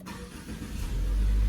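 A 2020 Subaru Ascent engine starts; a quiet click gives way to a rising low rumble that settles into a steady idle within about a second.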